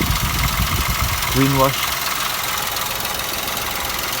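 A 2008 Toyota Yaris small petrol engine idling, a steady low rumble throughout, with a person speaking briefly over it.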